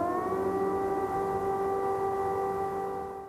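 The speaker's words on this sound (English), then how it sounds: "The sound of sirens has become common for Ukrainians" A wartime air raid siren in Ukraine wails in a steady sustained tone, fairly distant and echoing, fading slightly at the end.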